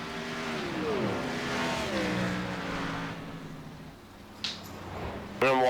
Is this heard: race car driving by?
yes